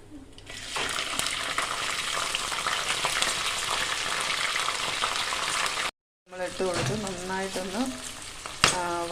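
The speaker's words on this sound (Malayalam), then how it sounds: "കാന്താരി ഒന്ന് വറുത്തെടുക്കാൻ വേണ്ടിയിട്ട് അതിലേക്ക് ഇട്ട് കൊടുക്കുവാണ്" Steady, loud sizzling of bird's eye chilies frying in hot oil for pickle, for several seconds, broken by a brief pause, then a voice talks over the continuing sizzle.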